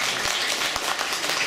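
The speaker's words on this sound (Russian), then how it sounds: "Ваши аплодисменты, дорогие друзья." A short burst of audience clapping at a jubilee concert evening, sparse but steady hand claps close to the recording point, with no talk over it.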